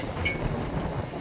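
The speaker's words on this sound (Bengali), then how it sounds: "দেখতে পাচ্ছ বর্ধমান স্টেশনে ঢুকছে আমাদের ট্রেন" An EMU local train rolls into Burdwan station on the Katwa–Burdwan line, a steady close rumble of wheels and carriage noise with a brief higher squeal near the start and no voices.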